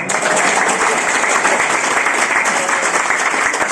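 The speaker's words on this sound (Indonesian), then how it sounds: "tepuk tangan dong" An audience breaks into loud, sustained applause: dense, even clapping from a large crowd that fills the room close up for several seconds without a break.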